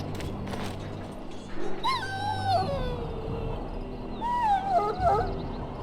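A dog in the Dragon Age video game whimpers in two drawn-out, wavering whines, close and moderately loud over a low ambient background, with a pause between them.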